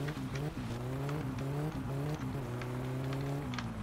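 Fast car engine from the video game My Summer Car, revving loud and close in steady rising pitch sweeps with several quick gear-like drops, continuous and alone with no talk.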